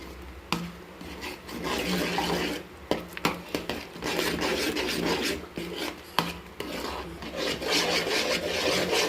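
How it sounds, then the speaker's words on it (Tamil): A spatula stirs and scrapes cashew palkova with ghee in a pan, making continuous rasping, rubbing strokes with a few sharper knocks, close and steady throughout. "இப்போ நல்லா கிண்டி விட்டுக்கலாம்."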